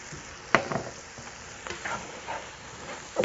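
Flour being stirred into softened mushrooms and celery cooking for blue crab chowder, a few spoon scrapes and knocks over a gentle sizzle, close and moderate, no voices.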